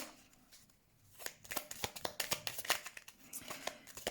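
Lenormand cards are shuffled by hand, a quiet pause giving way to a rapid run of crisp riffling slaps and flicks that continues steadily to the end, with no talking.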